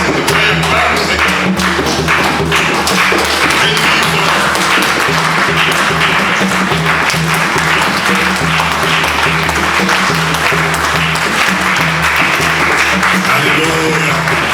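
A church congregation applauding to acclaim the Lord during a December New Year's Eve service, with dense, steady clapping filling the whole stretch, mixed with a murmur of voices and occasional thumps.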